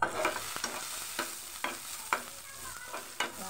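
Fish sizzles steadily in a hot frying pan, with a few sharp scrapes and stirring clinks cutting through the continuous crackle.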